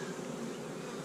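Honey bees in a winter hive buzz steadily and densely, a close continuous hum with no pauses.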